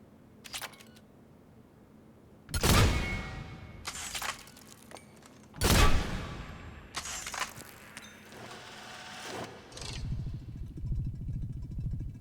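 Kishock harpoon gun shots at mid range in Mass Effect 3, a few loud sharp discharges spaced several seconds apart with mechanical clatter and reload noises between them, no talk.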